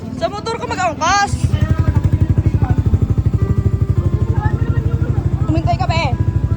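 A motorcycle engine idles close by with a steady, rapid putter that runs for most of the stretch, while people talk over it near the start and again near the end.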